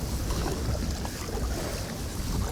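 Strong wind buffets a fishing boat out on the water, a loud, constant roaring rush with heavy low rumble and microphone wind noise throughout, no voices.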